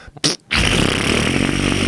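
A voice imitates a long, steady fart from wrestler Andre the Giant, a loud, close, buzzing drone that holds unbroken after a couple of quick breathy bursts.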